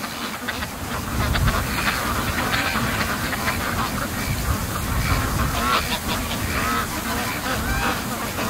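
Free-range ducks out on a frozen lake quack and honk over one another in a busy, unbroken chatter, with low rustling and splashing underneath, fairly close by.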